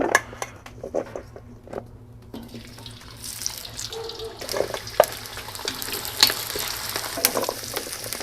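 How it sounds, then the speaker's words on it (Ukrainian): Potatoes sizzle and crackle steadily in hot sunflower oil, growing denser and louder partway through, with occasional clinks of stirring; no one speaks. "І починаємо смажити нашу картоплю."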